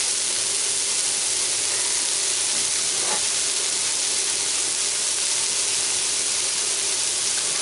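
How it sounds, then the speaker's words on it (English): Onions and carrots frying together in a hot pan, a loud, steady hiss of sizzling that stays constant throughout with no talking. "So fry the onions and carrots together."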